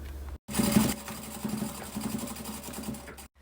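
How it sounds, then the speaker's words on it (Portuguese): A sewing machine runs steadily for a few seconds, stitching fabric for a mini pin-up box. A close, even motor hum carries the quick rhythmic needle clatter, and it stops briefly at the start and again at the end. "Vou encaixar aqui e passar uma costurinha."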